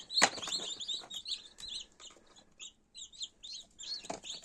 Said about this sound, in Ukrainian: не дивлячись знову ж таки на відключення курчатка наші лупляться.